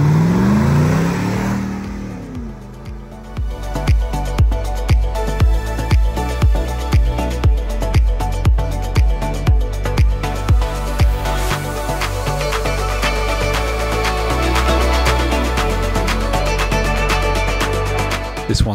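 A Land Rover Defender 110 fitted with a GM LS3 430 hp V8 and six-speed automatic starts up, then revs repeatedly in sharp rhythmic bursts before settling into a loud, close, steady idle, with no voices.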